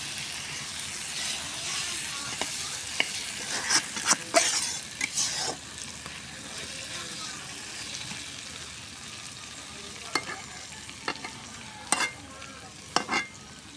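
Okra frying in oil in a pan over low heat on a stove, a soft continuous sizzle with occasional louder stirring scrapes.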